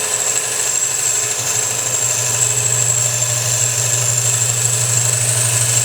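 A gouge cuts into a large wooden salad bowl spinning on a lathe, giving a steady, continuous motor hum with a fixed drone and a high whine throughout, loud and unchanging, with no talking.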